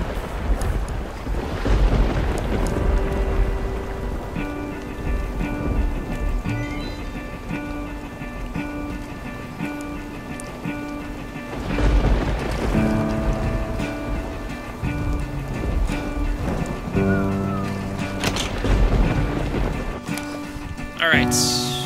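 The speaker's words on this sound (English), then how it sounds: "Logfella had given up on his wood chopping due to the sinister storm" A sinister thunderstorm with rain in the game Sword and Sworcery: a steady wash of rain and wind with low rumbling swells and tonal music layered over it, no speech.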